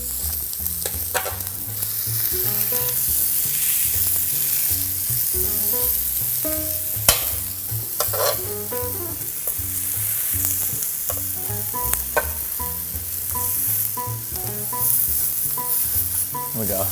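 Breakfast sausage patties sizzle loudly on a griddle, a dense continuous crackle with occasional sharp spatula scrapes and clicks, with no voices.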